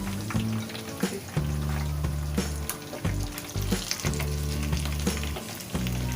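Lahore-style fish pieces frying in hot oil, a loud continuous sizzle with bubbling bursts and sharp crackles that rise and fall every second or so, close up with no talk.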